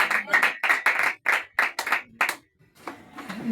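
A church congregation claps in a quick, bunched series of loud claps that stop abruptly, then gives way to faint voices and scattered noise near the end.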